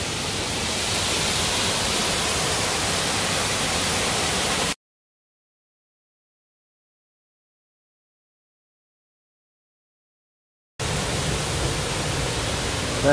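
A waterfall in the Brecon Beacons gives a steady, full roaring rush of falling water up close, broken by a complete silent gap of about six seconds in the middle before the roar resumes.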